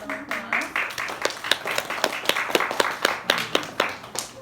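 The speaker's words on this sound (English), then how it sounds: "Maybe we can give him a little round of applause." A small audience claps for a speaker at a wildlife talk, a thin scattering of hands that starts at once and keeps a loose rhythm for several seconds, near and fairly clear, with some voices murmuring underneath.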